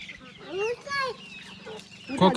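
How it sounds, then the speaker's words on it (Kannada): Native country hens cluck close by in a village yard, giving a few short clucks and calls with a voice mixed in. "ಎಷ್ಟು ಕೋಳಿ ಇದೆ ನೋಡಿ, ಎಷ್ಟು ನಾಟಿ ಕೋಳಿ."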